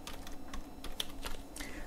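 Code is typed on a computer keyboard in quick, uneven clusters of crisp, close key clicks, quiet and alone.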